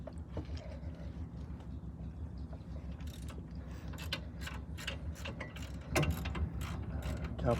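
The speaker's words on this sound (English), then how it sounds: "Caliper bracket's coming off now." A hand ratchet clicks in short bursts while a brake caliper bracket is removed from a wrecked 2004 Subaru STI, close and fairly quiet, with some louder clatter and workshop clunks near the end.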